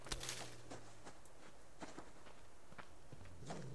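Wolf footsteps running in the survival game Subsistence: a series of soft, quick patters and thuds spread across the clip over steady low ambience, fairly faint, with no talk.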